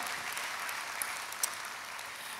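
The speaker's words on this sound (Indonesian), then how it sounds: "beri tepuk tangan yang paling meriah buat Yesus Tuhan" A church congregation claps for Jesus during a sermon, an even, sustained roar of applause with a couple of sharper individual claps standing out.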